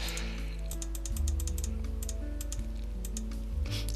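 Rapid bursts of computer keyboard typing, clicking keys close by over a steady low background hum and tones, with no voice.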